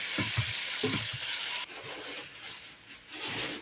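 Spinach and red pepper paste are stirred in a frying pan, giving a steady broadband sizzle with a few scraping stir strokes near the start that fade into continuous frying.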